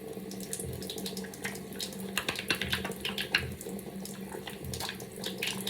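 Tap water runs steadily into a sink while hands are rinsed in a clinical setting, a continuous close splashing hiss with irregular spatters from the hands moving under the stream.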